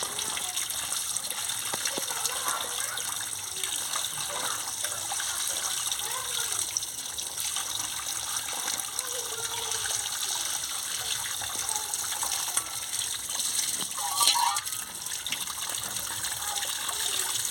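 Water runs steadily from a tap while cut ridge gourd, snake gourd and potato are washed in a kitchen, a constant close gushing with small splashes throughout.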